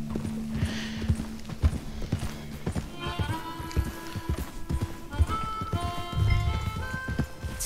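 A horse's hooves clip-clop at a steady walking pace in the Western video game Red Dead Redemption 2, clear and fairly close, with a sustained musical tone and faint ambient sounds layered underneath.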